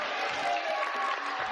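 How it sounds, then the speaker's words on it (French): Studio audience applause on a French children's video game TV show as a contestant wins a Super Nintendo, a steady dense patter of clapping and crowd noise lasting the whole moment. "On applaudit Marie Ashley."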